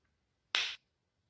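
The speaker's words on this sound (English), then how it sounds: "as soon as I snap my fingers, you're gonna see something incredible in it" A single finger snap performed as a magic-trick cue, one short sharp crack standing alone in a quiet room.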